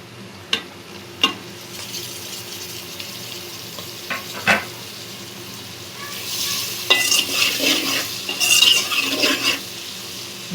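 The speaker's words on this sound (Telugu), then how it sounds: "అలాగే టమాటా ముక్కలు కూడా వేసేసుకుందాం" Tomato pieces go into a sizzling pan of gongura curry and are stirred in. A soft, continuous fry runs underneath sharp spoon-on-pan knocks, and a busier stretch of clinking and scraping follows near the end.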